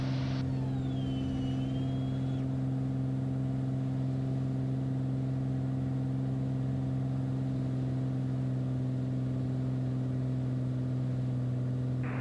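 A Bonanza light aircraft's piston engine drones steadily at climb power just after takeoff, a loud, constant mid-pitched hum with strong tonal harmonics filling the cabin for the whole stretch, with no voices over it.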